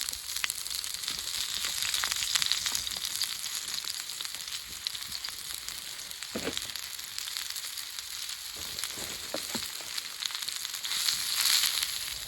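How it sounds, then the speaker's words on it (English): A burger and onions fry in a pan over a campfire in the forest, giving a steady close sizzle and crackle throughout with a few sharper pops, and no talking. "The onions are starting to cook off now."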